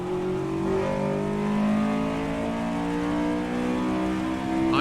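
A race car engine in the Assetto Corsa EVO racing game holds a loud, sustained drone whose pitch drifts gently up and down as the car runs, with a brief sharper sweep at the very end.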